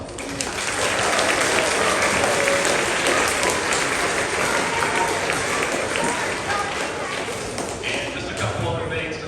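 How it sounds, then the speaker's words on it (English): Audience applause fills a school's fifth grade spring concert, dense sustained clapping from a large crowd, loud and steady throughout with a slight fade toward the end. "So give all those people and yourselves a big round of applause."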